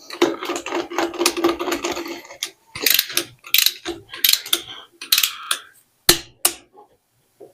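A ratchet wrench with a socket working on an Edsel, rapid close clicking bursts of the pawl in several separate runs with short pauses between them.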